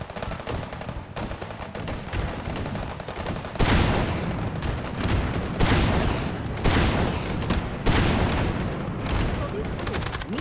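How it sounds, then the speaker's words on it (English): Repeated rocket explosions in the VR shooter Hot Dogs, Horseshoes & Hand Grenades, a run of loud, close booms and rapid gunfire-like bursts coming in clusters, with a player's voice heard now and then. "Rockets."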